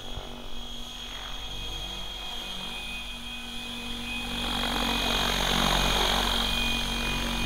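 A Synergy 696 RC helicopter flies nearby with a steady whining rotor and motor drone that grows louder toward the end, holding a continuous high-pitched tone over a broad whoosh.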